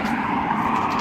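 Road traffic rolls past nearby, a loud, continuous rushing engine and tyre noise with no gaps and no talking over it.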